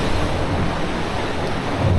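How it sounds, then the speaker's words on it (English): Ocean waves crash and rush beneath a carbon fibre racing yacht hull, a loud, continuous broadband roar with rumbling low end and no voices. "So you can hear those waves crashing underneath us."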